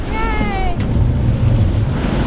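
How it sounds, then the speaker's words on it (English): Wind rushes steadily over a microphone aboard a sailing boat at sea, a loud, continuous blustery roar with low rumble throughout and a brief faint voice-like tone near the start. "Seems like the system coming on over there could give us some wind, or is giving us some wind already."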